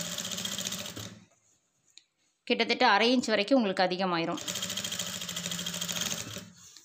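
A sewing machine stitches along a blouse lining with a steady, close mechanical whir, stops while someone talks, then runs on again at the same even speed.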